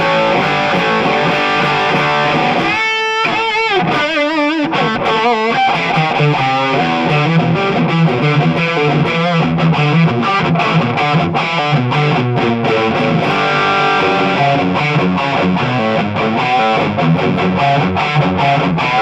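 Electric guitar played through a Joyo BantAmp XL Meteor II mini amp on its Orange-style distortion channel, gain and tone raised: a loud, continuous stream of crunchy distorted chords and riffs, tight and sustained with brief choppy stabs early on.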